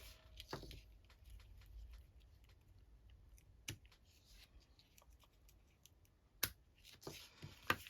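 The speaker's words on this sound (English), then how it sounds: "Let's snip our ends." Scissors snip thread ends on a watercolour-splat vintage paper tag at close range. A few faint, sharp cuts are spread out over quiet handling noise.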